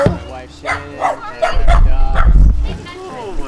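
A pet dog yips and barks repeatedly in short bursts while people greet each other loudly and talk over it close by.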